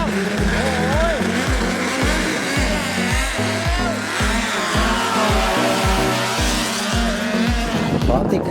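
A long-tail racing boat engine runs loud and close at a boat race, a steady droning roar with rapid rhythmic pulsing and shifting pitch, with voices talking over it.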